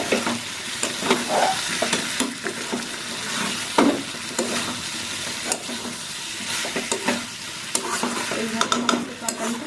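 Fried potatoes are stirred and sautéed in a wok with spices, a continuous close sizzle broken by repeated scraping and clinking of the spatula against the pan, with no talking.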